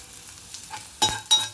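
Cumin seeds hit hot oil in two sharp bursts of sizzle and crackle near the end, close and fairly loud over a quiet, faintly hissing background.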